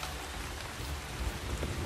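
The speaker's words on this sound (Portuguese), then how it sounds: "E vem mais chuva." Steady rain falls throughout a survival video game scene, a dense, even hiss with soft low rumbling and no talk.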